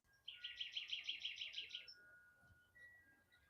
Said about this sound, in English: Listen at the birds.